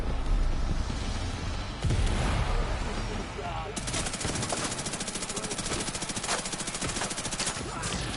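Gunfire rattles in Division 2, with sustained rapid automatic bursts, dense and steady in the second half, under a voice speaking.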